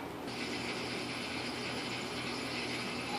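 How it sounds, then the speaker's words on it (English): Aquarium sump pump running under a custom 125 gallon reef tank, a steady mechanical rattling hum with a constant hiss, close and continuous, with no talk. "it's just that pump going off because I had to plug it in"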